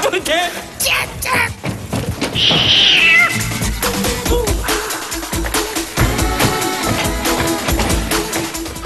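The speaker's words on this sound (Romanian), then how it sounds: "Aveți pisică?" A cat meows repeatedly, loud and close, with a drawn-out caterwaul in the middle, mixed with people talking and a few thumps in a sitcom scene.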